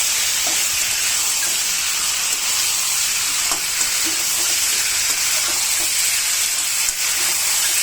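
Taro roots stir-fried with prawns sizzle steadily in hot oil, a broad hissing crackle lasting the whole time with light scraping from stirring, close and unvoiced.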